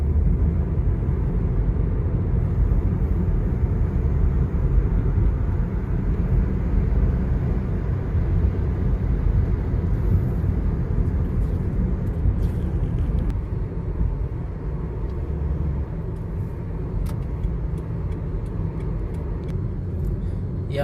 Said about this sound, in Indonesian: Sekarang tidak banyak mobil yang keluar